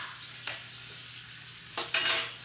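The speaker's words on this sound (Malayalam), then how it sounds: "ഞാൻ ഉള്ളി മൂപ്പിക്കാൻ വെച്ചു" Onions frying in a pan for fish curry give a steady, soft sizzling hiss, with a couple of brief louder crackling bursts toward the end and no talking.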